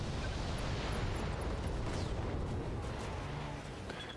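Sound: mech firing all weapons in Battletech video game

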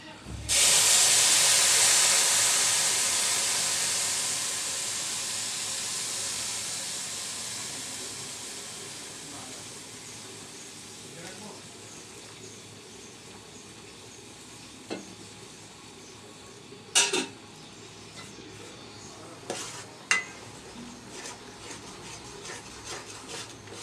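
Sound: liquid milk added to a pot, coming to a boil

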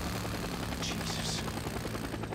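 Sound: helicopter flying in video game Days Gone

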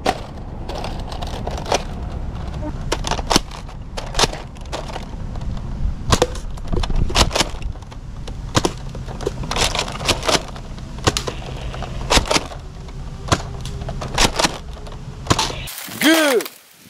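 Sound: Nerf AK47 Dragunov toy blaster firing

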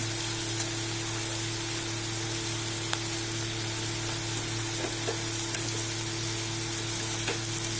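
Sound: onions and carrots sautéing in a pan

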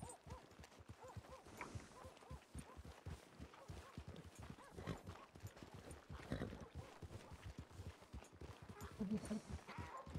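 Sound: horse hooves clip-clopping in a video game

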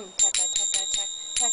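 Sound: finger cymbals (zills) with dulled first stroke

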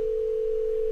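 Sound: synthesized tone that is not a pure sine wave

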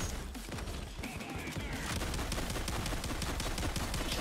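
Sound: turret firing in video game Payday 2

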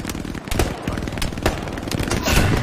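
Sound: MG machine gun fire in video game Hell Let Loose

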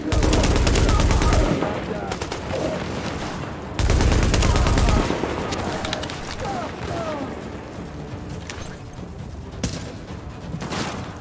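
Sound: gunfire in the video game The Division

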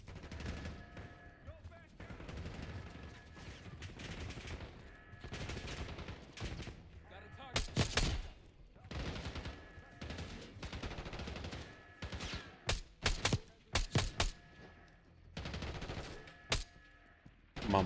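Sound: gunfire in the video game Call of Duty Black Ops 6

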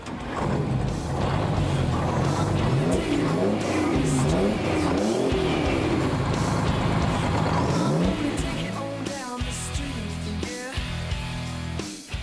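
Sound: V12 Detroit diesel truck engine

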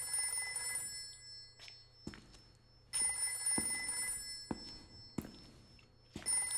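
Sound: telephone ringing in video game Haunting Ground

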